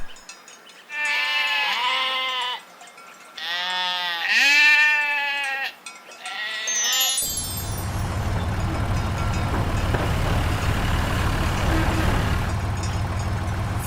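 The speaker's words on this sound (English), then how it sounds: "2 sheep." Sheep bleat several times in loud, wavering calls, close and separated by short pauses, before the sound gives way to a steady engine-like rumble.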